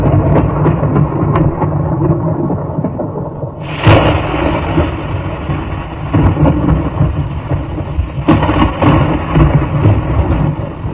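Thunderstorm over Brisbane in the evening, with heavy rain and frequent lightning: a steady loud roar of rain and rumbling thunder runs throughout, with sharper cracks near four and eight seconds.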